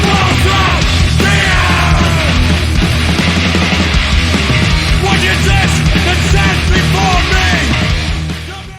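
Hardcore metal song with loud dense distorted guitars, pounding drums and harsh shouted unclean vocals, sustained throughout before fading at the end.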